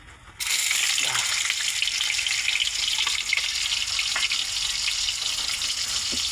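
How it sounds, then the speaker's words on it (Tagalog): Hotdogs frying in a pan give off a loud, steady sizzle that starts abruptly and keeps going, with occasional soft clinks and stirring sounds on top. "Magluluto tayo guys ng hotdog."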